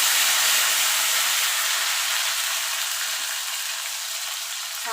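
Ginger and green chili paste frying in hot oil with whole garam masala, a steady close sizzle and hiss that holds for the whole stretch with no talking.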